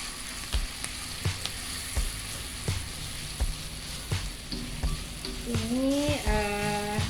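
Ground spice paste frying with shrimp in a pan for sweet-and-spicy prawns, a steady close sizzle with repeated spatula taps and scrapes, no talking.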